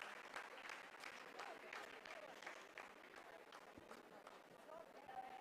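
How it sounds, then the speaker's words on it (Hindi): Scientists in a mission control room applauding during the Chandrayaan-3 lunar landing, faint continuous clapping under a commentator's voice, distant and steady throughout. "आप इस तालियों के गड़गड़ाहट को सुन सकते हैं"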